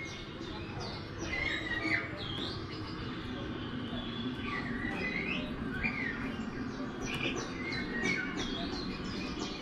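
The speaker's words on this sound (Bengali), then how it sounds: "এখানে পাখির কলতান লাউডস্পিকারে বাজানোও হচ্ছে।" Recorded birdsong played through a loudspeaker at a Durga Puja pandal in Siliguri, with repeated chirps and whistled calls over a steady crowd murmur, moderately loud and continuous.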